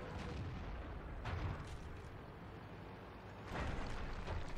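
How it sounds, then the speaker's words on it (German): A Tiger I tank cannon fires in World of Tanks, with two heavy booming shots about two seconds apart over a low rumbling battle background. The sound is fairly faint, with no talking. "dass das eine wirklich sehr angenehme Kanone ist, mit der man im Tiger spielt und unterwegs ist"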